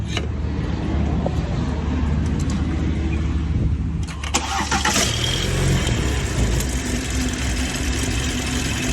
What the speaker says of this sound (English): turn the car on right now and show you guys what it sounds like